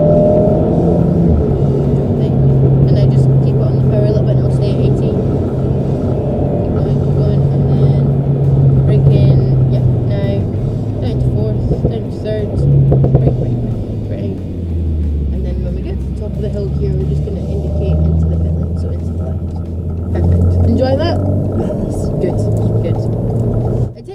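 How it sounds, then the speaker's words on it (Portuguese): An Alpine car laps the Knockhill race circuit in Scotland, its engine droning steadily and loudly from inside the car with rising and falling pitch as it shifts, while people talk. "Aí a gente fez acho que umas 4, 5 voltas com esse modelo do Alpine."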